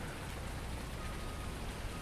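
Steady rain falls in the Farming Simulator 19 video game, a dense, even hiss of drops that is soft and continuous throughout.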